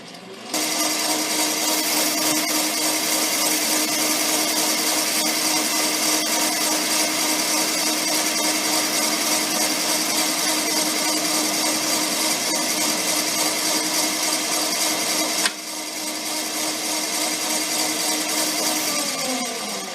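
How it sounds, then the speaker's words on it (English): A metal lathe takes a facing cut on a Ford Model R axle, a steady, loud broadband cutting whir with a constant tone running throughout, briefly shifting near the end as the cut finishes. "now I'm going to tighten it up in the chuck and take a facing cut"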